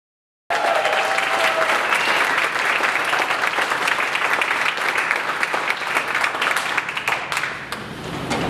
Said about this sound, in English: a round of applause for Aaron and Lindsay from Indian.